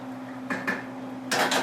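A spoon stirs macaroni in a pot of boiling water, making two short pairs of scraping, clinking strokes against the metal over a steady low background hum.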